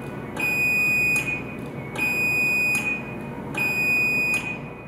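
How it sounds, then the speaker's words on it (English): A Chamberlain belt drive garage door opener gives three loud electronic beeps in a slow, even sequence, each tone about a second long, over a steady low mechanical hum. "The opener beeps and lights flash slowly 5 times."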